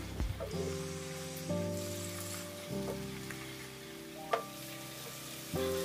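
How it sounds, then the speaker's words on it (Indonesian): Melinjo leaves being stirred and cooked in a young jackfruit stew, a soft sizzle and simmer with several scraping stirs of a utensil against the pot, and no talking. "Aduk-aduk masak kembali sampai daun so matang."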